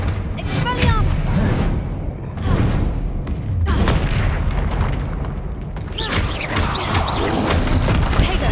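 Loud spell blasts and booming impacts from Hogwarts Legacy combat pile up continuously with crashes and thuds, while a voice calls out beneath the din.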